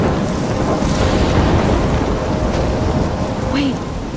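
Heavy rain pours in a dense, loud wash as a thunderstorm rumbles underneath in the Life is Strange video game, a continuous storm roar with no talking.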